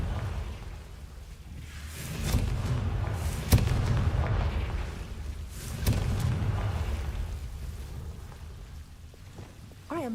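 Confringo and Incendio spell blasts in Hogwarts Legacy land as rumbling fiery bursts that swell and fade in waves, with sharp crackling hits near the start and middle over a continuous low roar.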